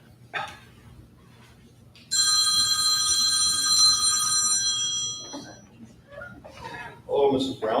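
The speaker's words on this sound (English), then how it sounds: "So my phone will ring here in just a little bit" A telephone rings loudly and continuously for about three seconds in a school board meeting room, a bright electronic bell tone, with brief bits of talk and room noise before and after it.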